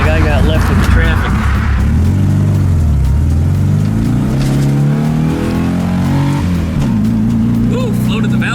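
A car engine revs hard while driving through a parking lot and pushes to the point of valve float. The loud, strained engine roar rises and falls continuously, with some voice-like sound mixed in.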